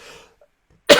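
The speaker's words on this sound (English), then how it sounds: "Sorry to keep coughing in your ear" A single sharp cough comes close to the microphone after a brief stretch of near silence and faint background murmur.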